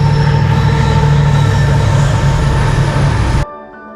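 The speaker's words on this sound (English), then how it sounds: "you might just get to see a train flying through" A train roars through a railway crossing, a loud, close, continuous rumble of wheels on track with a metallic edge that cuts off abruptly near the end.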